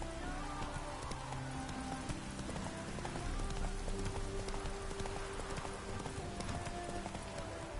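Roach the horse from Witcher 3 trotting through rain, steady clip-clop hoofbeats under a constant wash of rainfall, moderately close and quiet.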